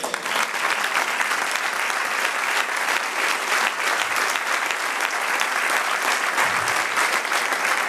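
A church congregation bursts into sustained, dense applause praising the Lord during a Spanish-language sermon, the clapping loud and even for several seconds with no talk over it.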